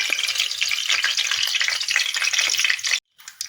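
Crackling, hissing sizzle of two bay leaves and garam masala frying in hot ghee in a pan while basmati rice is prepared, continuous and close, cutting off abruptly near the end.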